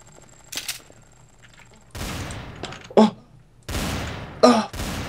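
Gunfire in Garry's Mod comes as two loud bursts of rapid shots, each ending in a sharp crack, with quieter game sounds between them.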